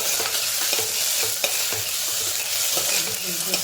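Vegetables sizzle and fry in a hot pan while being stirred, a close, steady crackle broken by regular scraping strokes of the spoon against the pan.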